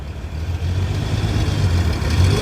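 A car engine idles and rumbles close by at a busy morning car meet, a steady low throb that builds slightly in loudness over a couple of seconds, with no talking.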